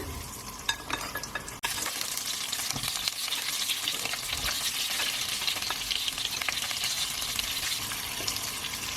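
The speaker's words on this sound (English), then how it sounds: "we're now going to fry this eggplant" Eggplant frying in hot oil in a heated pan makes a loud, steady sizzle and crackle that swells after a brief dip near the start and then holds close and continuous with no talking.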